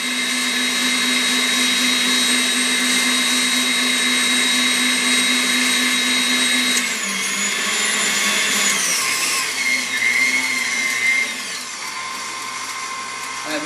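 Electric mixer whirring through pound cake batter, a steady high motor whine that shifts pitch partway through as the speed or load changes, loud and continuous.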